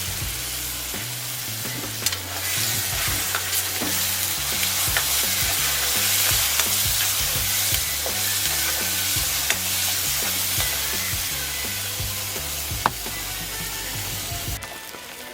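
Sliced onions and two cut tomatoes fry in oil for an Assamese fish and mustard curry, sizzling steadily and loudly close by, with scattered clicks of stirring.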